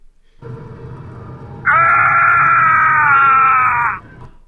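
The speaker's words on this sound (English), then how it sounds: "I'm going to put the Jedi Outcast dying scream" A pained dying scream from the Star Wars game Jedi Outcast, a loud drawn-out cry of about two seconds rising out of a low rumbling background and then cutting off.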